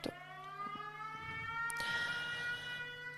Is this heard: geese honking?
no